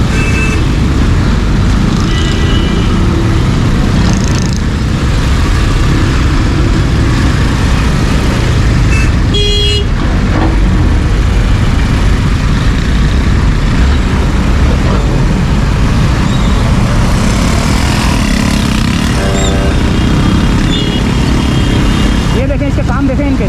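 Dense roadway noise from motorcycles and cars pushing through heavy traffic on a flooded road in Karachi rain, a loud continuous rumble of engines with someone talking over it throughout.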